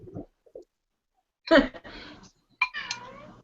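A hungry pet cat meows indoors in a few short, close, fairly loud calls separated by silence, with a faint breathy sound at the very start.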